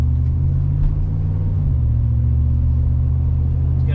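A 2017 AEV Brute double cab truck with a Hemi V8 and 37-inch tires cruises on a test drive, its engine a steady low rumble with one small shift in pitch midway.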